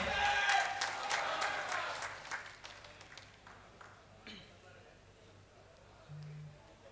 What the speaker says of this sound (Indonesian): Ya, beri tepuk tangannya meriah.